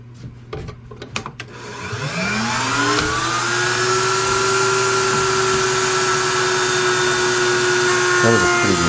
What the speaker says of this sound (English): Next step was getting the cove cut on the router table